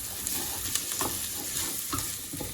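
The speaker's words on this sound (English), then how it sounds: "Do that and then stir it around." Mung beans are stirred in a hot pan, a soft continuous sizzle with several light spoon scrapes and clicks, close and moderately quiet.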